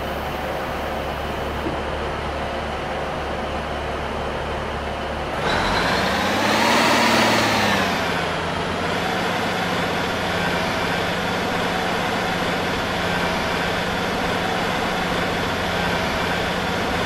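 A passenger train on the Treherbert line in the Rhondda stands at Treherbert station, its engine idling in a steady low drone, with a loud hiss of air brakes swelling and fading midway before the idle settles back.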